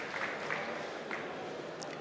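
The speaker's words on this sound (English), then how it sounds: "So I want to give him big applause" Audience clapping rises at a bartending seminar on coffee cocktails, a brief, even patter of many hands across a room.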